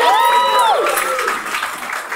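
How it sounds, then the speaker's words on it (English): Crowd applause at an engagement ceremony, broad clapping washing under a loud, drawn-out voice that rises and falls at the start, then settling into a steady patter from the gathered guests. "Give yourself a round of applause."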